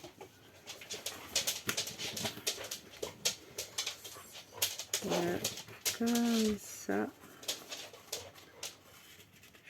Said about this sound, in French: vous allez entendre le bruit du chien